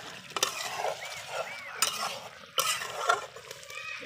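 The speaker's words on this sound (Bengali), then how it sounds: "মশলাটা চিকেন সাপের সঙ্গে খুব ভালো করে নেড়ে দেব।" A spoon stirs fried spice paste into chicken curry in a pot over a clay stove, scraping and sizzling softly in uneven bursts with a few sharper clinks of metal.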